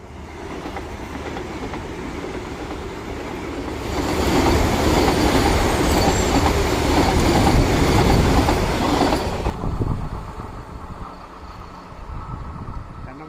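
A Vande Bharat express train rushes past rice fields in Kerala, its rumble and clatter swelling loudly mid-pass before fading, with steady wheel noise before and after.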